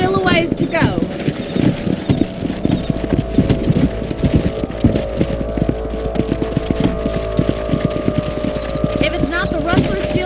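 Horse hooves clip-clop steadily in the Red Dead Redemption video game, a dense, continuous trot over an engine-like low drone, with a brief whinny near the start and characters talking over the riding.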